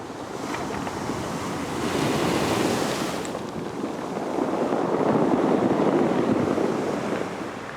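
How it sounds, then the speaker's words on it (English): Waves wash in and draw back on a pebble beach in steady surges, with a broad rushing hiss and faint gritty rattling of small stones rolling, no voices. "Every time a wave comes up here, all of these little rocks are rolling around."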